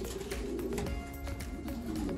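Racing pigeons in a loft coo steadily at close range, soft rolling calls overlapping against a low, constant background hum, with no voices.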